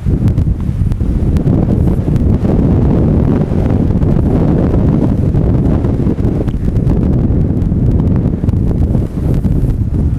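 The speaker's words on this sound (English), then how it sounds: "The wind seems to pick this back up a little bit" Steady, loud wind buffets the microphone at a cold-water lake margin during fishing, a continuous low roar with gusty surges and no talk.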